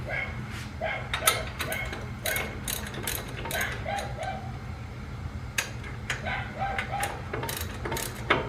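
Ratchet wrench loosening the 18mm caliper bracket bolts on a 2004-2015 Nissan Armada/Titan during a wheel hub bearing job, with repeated rapid clicking bursts and metallic clatter close by.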